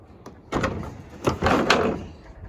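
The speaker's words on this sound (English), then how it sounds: "I'm having a little issue with that door still catching as this settles" A wooden shed door, catching on a settling base, scrapes and bumps as it is worked open and shut: two rough, rubbing bursts, the second longer, close by with no talk.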